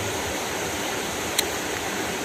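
Steady broadband rush of a river flowing beside an overnight riverside campsite, continuous and fairly close, with one brief faint click partway through and no voices.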